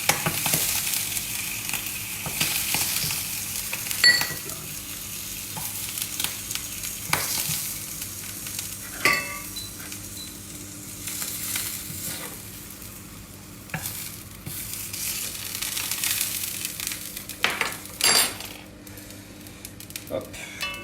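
Squid sizzling and frying in a hot pan while being cooked for risotto, a steady crackling hiss broken by frequent stirring scrapes and clicks, close and continuous, with a voice talking intermittently over it.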